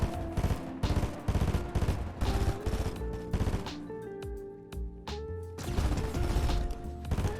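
Rapid bursts of Thunderburst SMG fire in Fortnite, sharp repeated volleys in quick rhythmic clusters with building and mechanical clatter between them, loud and close.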